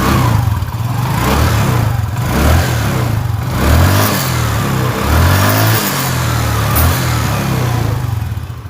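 A Yamaha Xeon RC scooter engine running after an electrical repair, a close, loud, uneven mid-pitched idle that rises and falls in small revs throughout.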